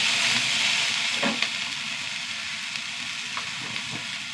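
Onion, tomato and green chili sautéing in a pan give a steady, close sizzle with a few soft stirring scrapes; no voices.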